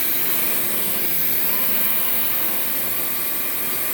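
A Dyson DC39 vacuum cleaner running, a loud steady airy motor whine and rushing airflow held constant throughout with no pauses.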